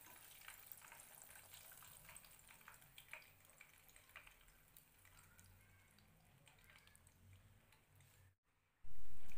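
Mini tofu and egg martabak frying in oil, a faint, steady sizzle with soft crackles, cut by a brief silence before a sudden loud burst at the end.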